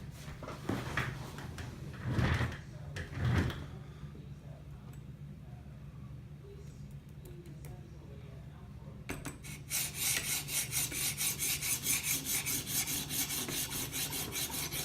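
Steel knife edge drawn across a guided sharpener's abrasive stone while grinding it down to a burr, a few scraping rubs early on, then a steady continuous rasping grind near the microphone.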